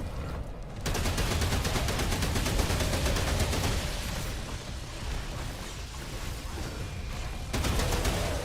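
Rapid sustained automatic gunfire from a weapon in Remnant 2, the crackling shots running nearly continuously for several seconds with a short lull midway, loud and close, with no talking.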